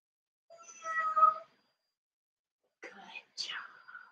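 Two short bursts of a voice imitating a cat's meow during a kids' yoga class, soft and breathy, separated by a pause of near silence.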